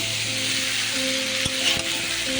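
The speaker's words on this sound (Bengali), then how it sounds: "এভাবে আমি ভালো করে কষে নেব।" Pumpkin and egg sizzle loudly and steadily in a frying pan while being stir-fried, with a couple of soft clicks from stirring and no voices.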